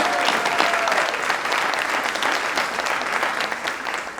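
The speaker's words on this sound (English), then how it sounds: "A round of applause." Audience applause at a hospital grand opening celebration in Lakeland, a dense, steady burst of clapping from a large crowd lasting throughout and tapering slightly at the end.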